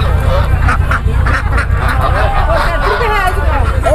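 Muscovy ducks quack and hiss at an open-air poultry market in Campina Grande, Brazil, repeated calls rising over a busy babble of vendors and shoppers talking, with traffic noise around.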